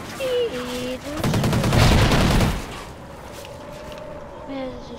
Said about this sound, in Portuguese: Rapaz, então foram tiros.